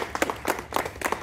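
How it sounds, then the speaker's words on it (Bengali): A small group claps hands in a few quick bursts, close and moderately loud, over a short moment. "এর জন্য একটা হাততালি।"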